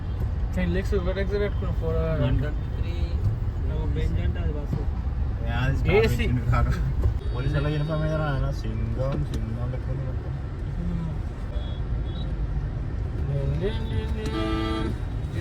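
A local bus rolls past on a busy road near Arunachalam (Tiruvannamalai), its engine rumbling steadily amid surrounding traffic, with repeated horn toots and people talking throughout.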